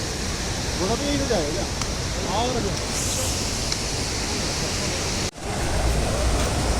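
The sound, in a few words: fast-flowing river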